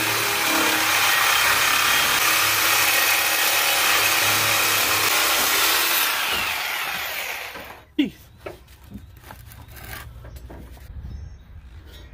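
A power tool cuts off a rusted intake tube during a header install on a 1997 K1500 truck, a loud, steady grinding whine for about six seconds that then winds down and stops, followed by scattered clunks and rattles.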